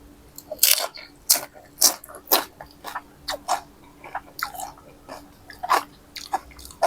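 Crispy pork rinds crunched and chewed with eggplant dip, a series of sharp close bites and crunches in uneven rhythm, with a soft voice at moments.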